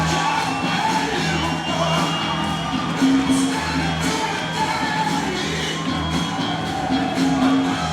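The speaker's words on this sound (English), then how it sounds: "I listen to the crowd, and everybody is pumped for this." At a Badbeat fight event, an arena crowd cheers and shouts during the fighters' entrances, a continuous dense roar of voices with scattered whoops, heard at a moderate distance.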